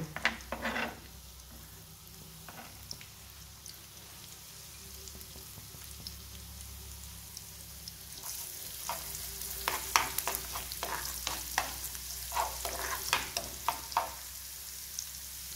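Onion and garlic fry in a pan for sotanghon toppings, a steady sizzle that grows louder and busier partway through, with scattered crackles and stirring clatter and no talk.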